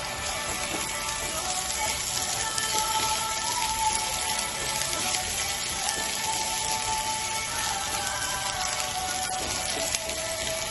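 Onions frying in a pan, a steady, even sizzle and crackle that carries on without a break and stays moderately loud and close.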